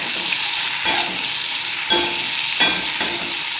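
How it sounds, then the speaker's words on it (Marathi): Ridge gourd sautés in a hot pan with a dense, continuous sizzle, punctuated by three or four louder scraping stirs spaced a second or so apart, close up and with no voices. "आता हे दोडके पण आपण त्याच्यात टाकून घेऊ। चांगलं परतून घेऊ त्यांना।"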